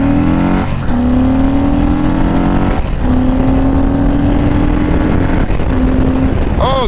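A 2020 Harley-Davidson Low Rider S accelerates hard from about 20 mph, engine pitch rising steadily through several gear changes, with wind rushing loudly over the recording and no talking.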